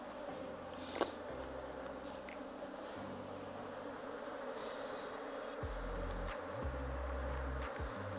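Honeybees buzz quietly and continuously around an opened beehive as a frame is lifted for inspection, a soft, dense drone with brief changes in pitch from individual bees passing close by.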